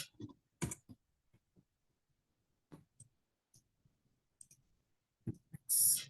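A handful of computer keyboard keys are pressed for a Ctrl+X, Y, Enter shortcut, giving quiet, isolated clicks separated by near silence, with a brief louder burst at the end.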